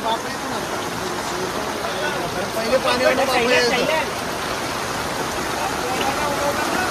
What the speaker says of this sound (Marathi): फक्त एवढा पाऊस पडतोय